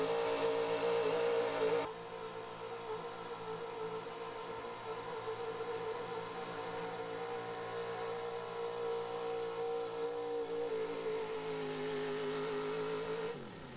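The Sled Wrecker, a big-block high-output 4x4 pulling truck, revs its engine while waiting to launch at a truck pull. The steady, droning engine holds loud at first, then settles to a sustained rumble, with no voices.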